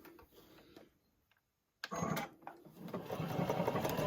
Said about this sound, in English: So I'm just going to sew all the way around the edge